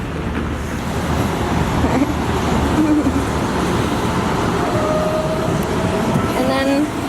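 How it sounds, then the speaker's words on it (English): Steady roar of street traffic and a rumbling train passing near Northeastern University's campus, with squeals and tones rising over the constant din. "So you have to like look for the cars and the train before you cross."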